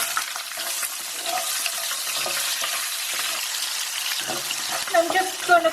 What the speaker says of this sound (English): I'm just going to cook my onions till they get slightly translucent